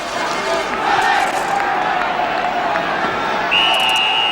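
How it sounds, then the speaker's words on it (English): Murmuring football stadium crowd waiting for kickoff at a 1973/74 match between Crystal Palace and Middlesbrough, a steady broad roar with scattered shouts and a high whistle-like tone near the end. "the crowd now waits for the start"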